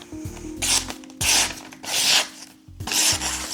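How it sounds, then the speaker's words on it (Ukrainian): A folding knife saws through 10 mm hemp rope, making four gritty, fibrous rasping strokes in quick succession, close and loud, with no talking. "Канат пеньковий 10-мм. Ніж пройшов нормально, впевнено."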